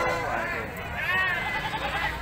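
Goats bleat at a crowded livestock market in Kalidawir, several wavering cries overlapping close by amid a steady hubbub of chattering people.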